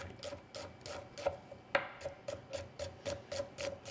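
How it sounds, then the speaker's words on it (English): Knife slicing a red onion into thin julienne strips on a board, a steady series of soft close taps and scraping strokes, about two or three per second, with no talk. "this is just a little bit of a julienne right across that onion"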